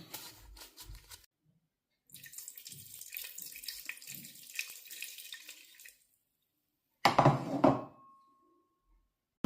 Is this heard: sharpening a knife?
no